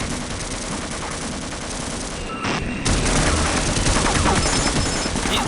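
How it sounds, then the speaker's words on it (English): Rapid sustained gunfire from an automated turret in Half-Life, a dense continuous rattle that briefly dips, then comes back louder and keeps firing. "the turret starts shooting if you cross like laser beams"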